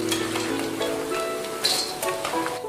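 Bite-sized pork pieces in their second fry in hot oil for crispy pepper pork, giving a dense, continuous crackling sizzle with scattered sharper pops and faint clinks of utensils close by.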